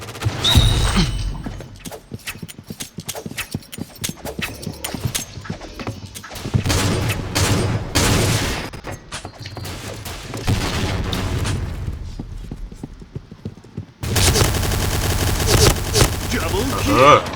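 Rapid, loud gunfire in the Point Blank shooter game, with bursts of automatic shots and heavy booms repeating across the stretch and a dense burst near the end.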